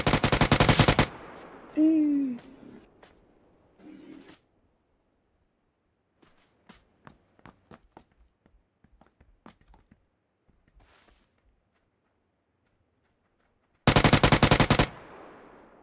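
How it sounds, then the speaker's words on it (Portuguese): Automatic gunfire in the video game PUBG Lite, with loud rapid bursts at the start and end and sparse distant shots and footsteps between, while a player talks briefly early on. "Vocês estão atirando"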